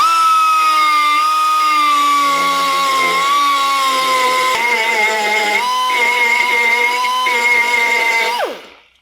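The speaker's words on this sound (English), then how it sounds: "The last bit I'm going to grind it off there." An angle grinder cuts off a stabilizer link on a Renault Modus with a loud, steady high-pitched whine. The pitch shifts slightly under load before the motor spins down at the end.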